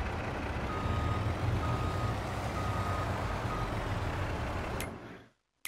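A truck in Landwirtschafts-Simulator 22 gives off repeated high reversing beeps at a regular rhythm over a loud rumbling engine, then the sound cuts out abruptly near the end.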